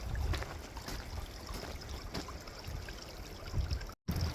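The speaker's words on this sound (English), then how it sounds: "Water is all flowing into this hole." Meltwater trickles and gurgles into a hole in the ice, a soft, continuous burbling close by, with a momentary dropout near the end.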